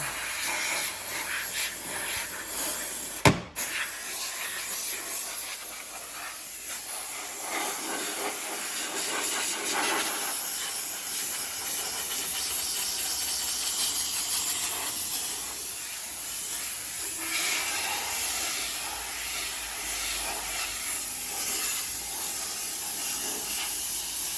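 Steam cleaner hissing steadily while detailing a car's interior window, a continuous loud broadband spray that runs almost unbroken, with one sharp click early on.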